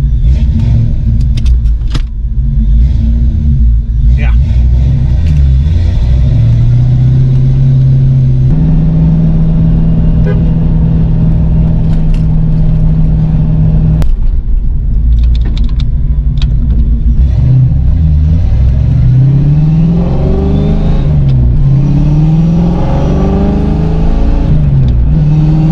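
A car on its first test drive after a repair, engine loud and steady throughout, rising and falling in pitch through gear changes and revving as it accelerates, with no talk.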